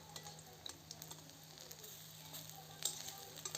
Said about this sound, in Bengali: তারপর এপিট ওপিট এটাকে লাল করে ভেজে ভেজে তুলে নিতে হবে।